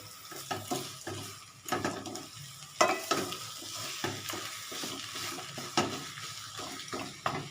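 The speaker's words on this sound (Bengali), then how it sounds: "ব্যাস এবার আমি নাড়তে থাকবো" A vegetable filling for paratha fries in a pan on a gas stove while being stirred, with soft sizzling throughout and repeated scraping and clinking of the spoon against the pan in an irregular rhythm, close and fairly quiet.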